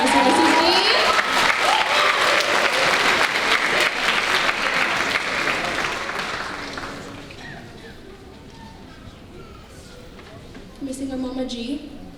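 Loud applause from a crowd with some cheering at a high school band spring concert, sustained for several seconds before fading down, then a brief swell of clapping near the end.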